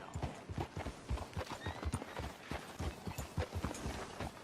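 Steady clip-clop of horse hooves trotting in the video game Red Dead Redemption 2, a quick, even rhythm, close and fairly loud, with no talking over it.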